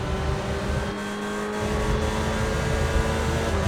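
Ferrari 488 GT3 race car in the iRacing sim at Spa, its engine droning steadily and loud throughout with slight throttle swells, another car's throttling mixed in close behind.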